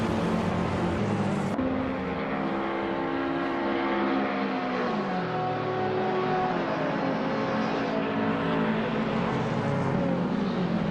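Race cars battling for position in a racing video game, engines droning steadily and loud with rising and falling pitch as cars shift and pass, no talk.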